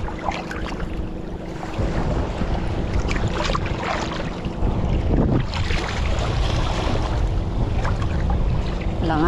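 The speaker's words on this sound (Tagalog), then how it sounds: "Ang laki ng alon." Big waves slap and rush against a small fishing boat at sea, a continuous near surge of churning water with wind buffeting the microphone, no voices heard.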